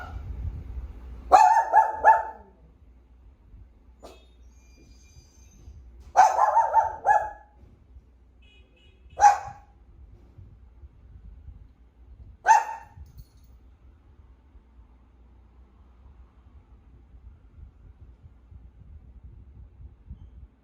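A dog barks in four short, separate bursts spaced a few seconds apart, fairly close and loud, with quiet stretches between them and no talking.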